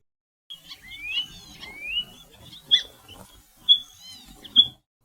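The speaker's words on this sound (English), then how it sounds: "Quail." A quail makes thin, high whistling and chirping calls, a few sharp squeaky notes with rising slurs, close and fairly soft against a quiet background.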